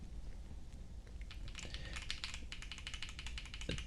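Keys clack on a OnePlus Keyboard 81 Pro mechanical keyboard in a rapid, uneven burst of crisp close-up clicks that starts after a quieter moment, with no voice.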